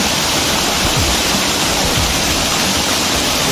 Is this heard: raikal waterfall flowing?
yes